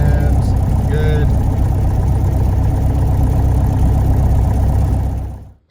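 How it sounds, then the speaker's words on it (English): A Piper PA-28 Warrior's piston engine idles just after startup, heard as a loud, steady low rumble that runs evenly before cutting off abruptly at the end. "Clear prop. All right, she's started up."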